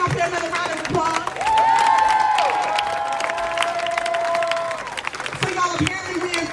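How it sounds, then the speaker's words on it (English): Crowd at an outdoor protest rally clapping and cheering, a sustained round of applause with voices calling out over it. "Let's give it up there another round of applause"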